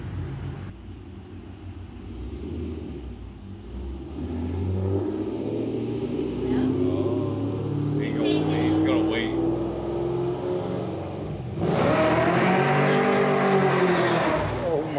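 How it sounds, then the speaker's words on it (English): A crate late model race car at Moler Raceway Park revs loudly through a burnout, its engine rumble rising steadily then surging into a harsh roar with tire squeal near the end, while people talk over it. "He's going to do a burnout."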